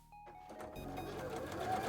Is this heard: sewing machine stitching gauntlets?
yes